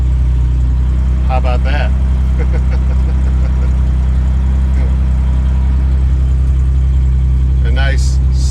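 A Jaguar XJ6 engine idles loud and close after a dead-cold start, a steady low rumble running throughout; someone speaks briefly over it a few times.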